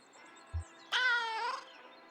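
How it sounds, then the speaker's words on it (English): One inquisitive, drawn-out meow from a cat in the video game Kentucky Route Zero comes clear and close, preceded by a brief low thump. "Inquisitive meow."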